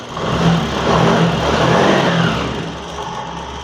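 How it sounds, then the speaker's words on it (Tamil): Honda BS6 motorcycle engine running and revving after a fuel pump repair, a steady close engine drone that swells and eases without anyone talking. "இப்போ நான் வண்டி ஸ்டார்ட் பண்ணி காட்டுறேன் பாருங்க"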